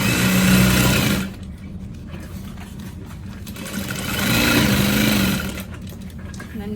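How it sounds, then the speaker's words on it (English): A sewing machine stitches a U shape on a bag in two runs of busy mechanical whirring, with a quieter stretch between them while the fabric pivots. "you're going to sew in a U shape starting at the bottom on the right side"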